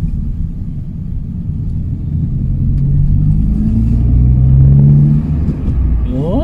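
A Honda Jazz/Fit GK5 fitted with a new muffler drones with a low, steady exhaust note that swells as it accelerates on the road, then eases off, heard close and alone.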